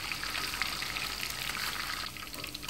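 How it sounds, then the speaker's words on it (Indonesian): Red chilies fry in hot oil while making Indonesian sambal goreng kentang, a steady close crackling sizzle with dense hissing pops that keeps going throughout and eases a little near the end. "Langsung aja saya goreng cabenya di minyak yang panas"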